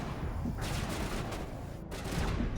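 Dense, continuous gunfire from a shooter video game fills the whole stretch, a loud rapid fusillade of overlapping shots with no voices over it.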